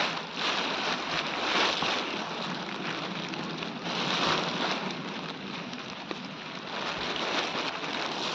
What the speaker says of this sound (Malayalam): മഴ നല്ല മഴ കേട്ടോ